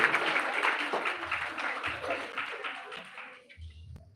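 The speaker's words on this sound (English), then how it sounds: "A huge round of applause for such a real life hero" An audience applauds at a school award program, with moderate clapping that thins out and fades after a few seconds, followed by a brief low thump.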